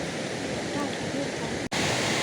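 Broad, steady rush of river water at the confluence of two rivers, the Cikidang among them, loud and continuous with a momentary dropout near the end; a voice may be speaking faintly under the flow.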